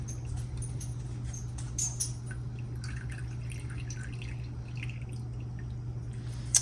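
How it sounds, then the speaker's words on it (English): Juice from a 12.5-ounce can of chicken breast drips and trickles into a container, small scattered droplet ticks over a constant low hum, close and quiet. "I'm going to add the juice from 1 can"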